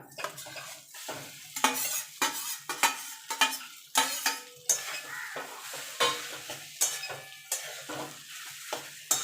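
Potato is mixed with spices in a pan for capsicum chop filling. A rhythmic run of close spatula scrapes and clanks against the pan sits over a soft sizzle, each stroke distinct and evenly spaced, with no talking.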